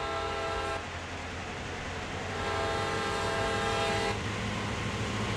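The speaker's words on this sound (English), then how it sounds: "There's the train right there." A CSX heavy haul freight train passes in Train Sim World, a loud sustained rumble of rolling wagons and engine drone with steady tonal hum, a sudden shift partway through and a continuing roar to the end, with no talking.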